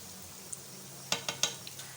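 Vegetable pakoras frying in hot oil, a faint steady sizzle broken by a few sharp clicks and spatters of the spoon or pan near the end, with no talk.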